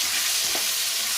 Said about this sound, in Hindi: इसकी कच्ची बू जाने तक भून लीजिए